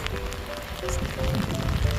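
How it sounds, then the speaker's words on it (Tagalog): Steady winter rain falls outdoors in the dark, a continuous close patter and hiss of drops hitting surfaces that grows slightly louder toward the end, with no voices. "Now it's raining."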